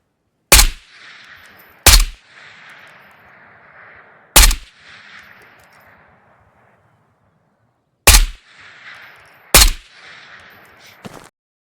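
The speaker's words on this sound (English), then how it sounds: "Next up, we've got our AK Alpha, suppressed." Five suppressed AK Alpha rifle shots in the game Ghost of Tabor, single loud sharp cracks spaced irregularly a second or more apart, each trailing off into a brief hissing decay, with no talk.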